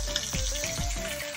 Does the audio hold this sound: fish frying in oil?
yes